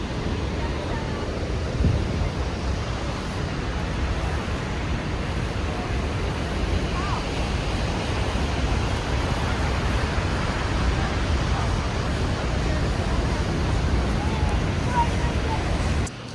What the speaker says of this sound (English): the water could really reach us here, even if the waterfalls is just there